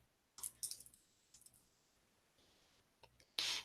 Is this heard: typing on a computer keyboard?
yes